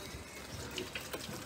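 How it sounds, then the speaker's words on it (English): Water poured down the back of a Mini Countryman windscreen during a car leak test, a faint continuous splashing trickle with no talk. "we'll put water down the back of the screen"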